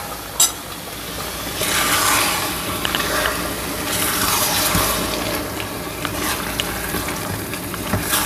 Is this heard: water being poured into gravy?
yes